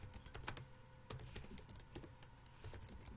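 Rapid keystrokes on a computer keyboard while C code is typed, an uneven, busy patter of close, crisp clicks with a few louder key strikes and no voices.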